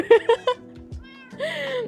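Minecraft cats meow in quick succession, with three short mews followed by a longer drawn-out meow, while a person talks over them at close range.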